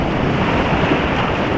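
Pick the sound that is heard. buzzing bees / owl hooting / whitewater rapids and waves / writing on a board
whitewater rapids and waves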